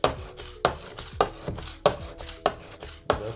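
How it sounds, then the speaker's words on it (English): A whisk beats banana fritter batter in a bowl with a steady rhythm of about five sharp knocks against the bowl's side, close and clear, with no talking. "Just whisking away."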